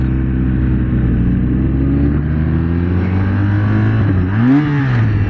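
A 2024 BMW R 1250 RT motorcycle's boxer engine runs loud and close in a steady drone, then revs up sharply and falls back as the quick shifter slips into neutral near the end.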